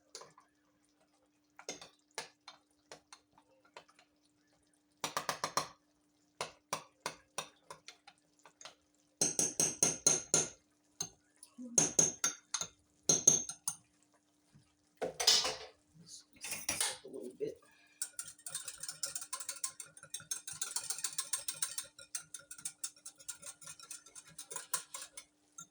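A spoon stirs ground turkey brown gravy in a pot, sounding as bursts of quick metallic scraping and tapping against the sides with pauses between them, close and fairly quiet.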